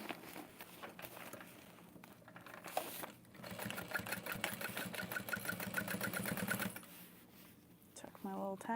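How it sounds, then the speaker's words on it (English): A sewing machine stitches fabric shut with a steady, rapid mechanical chatter lasting a few seconds, surrounded by quieter handling noise before and after. "And we'll just sew that shut."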